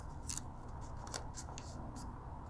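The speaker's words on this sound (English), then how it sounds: "So we're going to fold the wing in half." Origami paper is folded and creased for a bird's wing, giving brief crisp rustles and crackles, quiet and close, with no talk.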